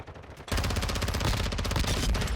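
Rapid, continuous submachine-gun fire from an HK MP7 (VEL 46) in Call of Duty Modern Warfare 2, a loud close burst that starts abruptly after a brief lull and hammers on steadily to the end.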